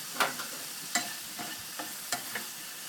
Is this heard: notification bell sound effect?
no